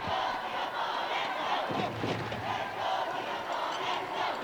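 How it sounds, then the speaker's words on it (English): Singapore supporters at a men's wheelchair basketball game against Thailand at the ASEAN Para Games chant and cheer steadily throughout, a dense crowd roar with rhythmic swells and no clear individual voices. "in the background you can hear the Singapore fans chanting"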